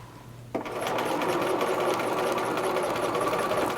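After a half-second of quiet, a sewing machine starts up and runs a basting stitch line through fabric with a steady, rapid, close-up mechanical hum.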